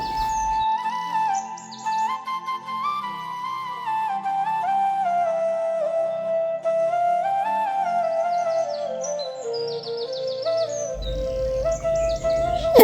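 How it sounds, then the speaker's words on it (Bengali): Pet birds on a veranda whistle and chirp continuously in bright, close, fairly loud calls that rise and fall in pitch, with no talking. "এসে দেখি বারিন্দায় পাখিগুলো ডাকাডাকি করছে"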